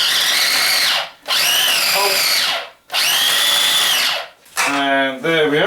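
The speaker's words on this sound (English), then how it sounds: "It's the baby food processor." A small baby food processor chops torn bread chunks into crumbs, whirring loudly in three bursts separated by short pauses, the last burst rising into a higher, strained whine.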